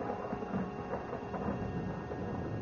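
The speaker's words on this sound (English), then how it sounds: "There's going to be a storm." Low rumbling thunder of an approaching storm rolls steadily with rain-like hiss, a continuous murmur at moderate level with no distinct crack, setting an ominous radio-drama mood.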